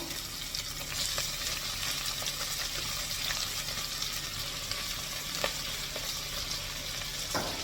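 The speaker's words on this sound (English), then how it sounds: "Let it saute a bit." Onion and impino sauté in a hot pan, a steady close sizzle with faint stirring scrapes and light clicks running throughout, no voices.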